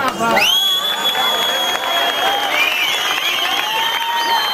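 A crowd at a public speech claps and cheers, with loud, sustained shrill whistles riding over the steady roar of applause for several seconds.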